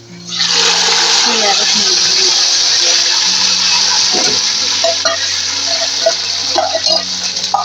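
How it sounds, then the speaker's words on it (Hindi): Tadka tempering for an Old Delhi shola dish hits hot oil with browned onion, a loud steady sizzle and hiss from the start, with scattered clinks of a spoon or pan, no speech. "प्याज ब्राउन हो चुकी है, अब मैं इसमें तड़का लगा रही हूँ।"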